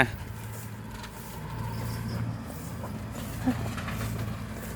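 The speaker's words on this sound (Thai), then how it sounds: "ตัดหญ้าสวนปาล์มนะ ก็ใช้รถไถตัดนะครับ" A Kubota L4708 tractor mowing grass in a palm plantation, its engine a steady low drone with a faint mechanical whir over it, moderately near and unbroken throughout.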